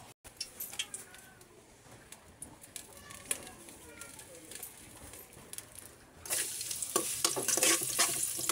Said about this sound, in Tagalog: Tigisayin natin ang talong may halong aloy.